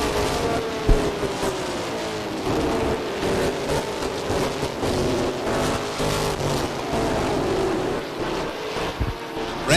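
Stock race cars circle the track at the 1990 ACT New England 300, a continuous loud roar of engines with shifting pitch and wind-buffeted noise, no voices over it.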